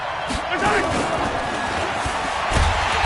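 A stadium crowd in a PS4 American football video game roars in a steady, loud wash with a few dull thumps, while a commentator-style voice talks over it.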